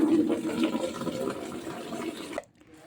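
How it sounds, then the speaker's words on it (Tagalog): Steady rushing of water pouring into a bucket, continuous and close, cutting off abruptly near the end. "lagyan ko na nga yun ng tubig"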